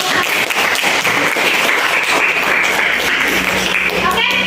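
Classroom applause fills the room, a dense, steady patter of many hands clapping together at close range for several seconds without a break.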